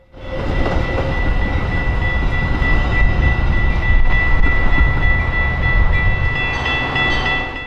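A Metra commuter train led by an ex-Amtrak EMD locomotive passes through downtown Chicago. It rumbles loud and close for the whole stretch, with a steady engine drone and a faint horn tone near the end.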